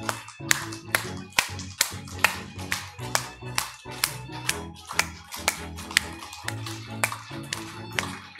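Palms clap together in a steady, repeated beat as a health exercise, crisp and close, about two claps per second, over a faint voice and background sound.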